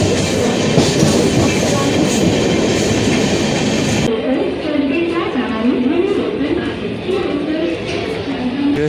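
A train at a railway station on the Dadar route rolls by close and loud with rumbling wheels and clatter, then a squealing, wavering screech sets in partway through, while people talk over it.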